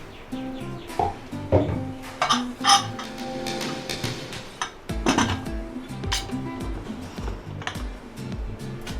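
A pressure cooker lid being closed over mutton cooking for biryani, with several metallic clanks, clinks and ringing knocks of the lid against the pot, close up, some louder hits among quieter rattles.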